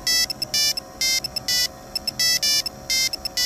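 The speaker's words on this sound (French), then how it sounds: "un petit buzzer. Donc forcément c'est un son beaucoup moins élaboré" A thin, bright electronic beeping melody from a small piezo buzzer, repeating in short rhythmic bursts like an old Nokia 3310 phone ringtone.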